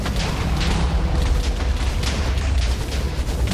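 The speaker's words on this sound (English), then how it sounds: "Constant bombardment." Constant explosive bombardment from the Chaos Guardian in modded Minecraft FTB Infinity, a dense loud barrage of booms and blasts rumbling without pause, no voices over it.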